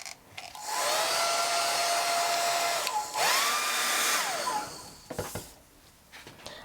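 A hair dryer blows steadily on a fresh layer of gesso during an image transfer, a loud whooshing hum with a faint whine, briefly dipping in pitch midway before shutting off, with small handling knocks afterward.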